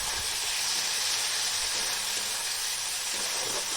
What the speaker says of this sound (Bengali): তো টমেটো কুচিটা দিয়ে এইভাবে নেড়ে চেড়ে নেবো আর ভেজে নেবো সুন্দর করে